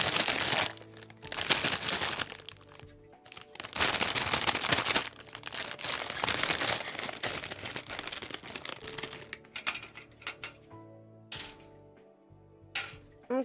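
A plastic bag holding the parts of an HG Kshatriya Gunpla model kit is torn open and handled, with loud, close crinkling and rustling in uneven bursts and a few short pauses.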